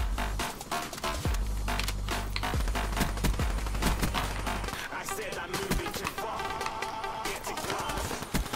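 Rapid bursts of automatic gunfire in the Black Ops 3 video game, with a Weevil class setup, crackle in loud dense volleys with short gaps, and someone talking over the shooting.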